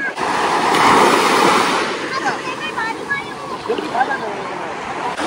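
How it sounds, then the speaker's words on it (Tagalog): Sea surf at Boracay beach washes in a steady, breezy rush with wind buffeting the microphone, loud and close, while a voice is faintly present underneath. "Tapos ito yung dagat niya"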